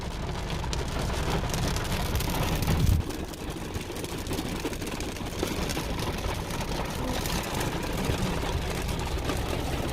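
Steady rain pouring down on a surface, a dense continuous patter with a brief louder thump near the start.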